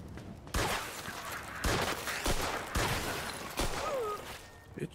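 Gunfire from the video game Mafia II: several loud, sharp shots fired at irregular intervals, each bursting out close and crisp against a rumbling game backdrop.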